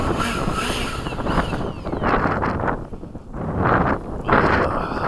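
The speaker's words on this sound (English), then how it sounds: "Wind hasn't died down at all" Gusty wind buffets the microphone at an RC flying field near sunset, roaring loud and close in uneven surges that rise and fall for several seconds, with no voices.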